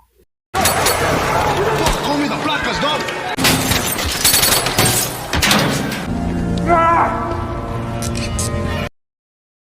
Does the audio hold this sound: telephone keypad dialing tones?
no